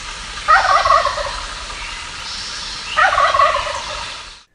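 A turkey gobbles twice, each a loud rattling burst about a second long, separated by a short pause against quiet background hiss.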